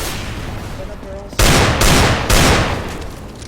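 Loud bursts of gunfire in the video game CS:GO, three sharp heavy blasts in quick succession after a quieter stretch with faint tones, close and dominant.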